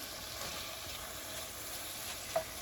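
Seasoned shrimp frying in a pan over medium-high heat give off a steady, quiet sizzle that holds evenly throughout, with one small pop near the end.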